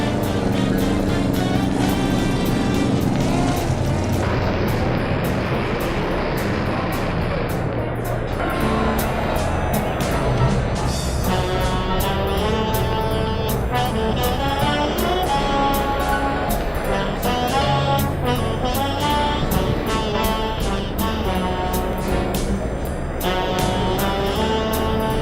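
The 1948 Pat Clancy Special six-wheeler race car out on practice laps, its engine roaring and shifting pitch as it passes, with a loud, continuous motor drone and changing revs throughout.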